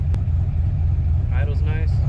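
A turbocharged Foxbody Mustang engine idles steadily with a deep, even low rumble, heard close, while a person talks briefly over it.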